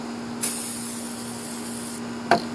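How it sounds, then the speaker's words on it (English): Spray adhesive is sprayed over glitter on shoes in one sustained hissing burst of about a second and a half, close by, followed by a short click against a low background hum. "I'm going to respray it over the top first glitter"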